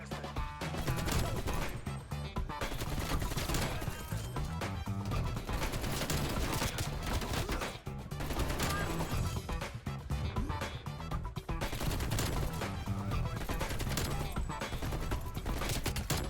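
Dense AK rifle fire from the video game Black Ops Cold War bursts nonstop across a busy, loud game mix, with rapid shots layered over continuous effects throughout.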